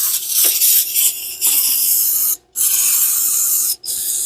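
Aerosol can spraying onto a Yamaha IT175K motorcycle's clutch cover bolts, a loud continuous hiss in close bursts, broken by two brief pauses before spraying resumes.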